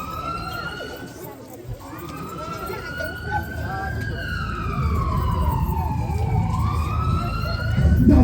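An ambulance siren wails in a rising and falling sweep, steady and fairly prominent, while people talk beneath it and a low rumble builds toward the end.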